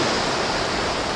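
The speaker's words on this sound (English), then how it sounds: "Just waiting for the last few biggish waves to break across here." Ocean waves break on a beach at dawn, a loud, continuous broadband rush of surf with no distinct individual crashes and no talking.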